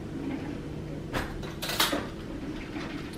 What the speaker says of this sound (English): And then I'm just gonna get a spoon and mix it together.